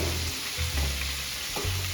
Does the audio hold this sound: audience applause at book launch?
no